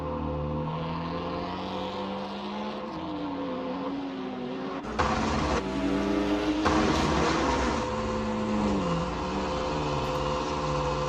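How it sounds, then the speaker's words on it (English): Video game racing car engines at Tsukuba Circuit whine and rev, pitch rising and falling as cars accelerate and pass, with a louder burst of engine roar midway. "Cars do sound nice though."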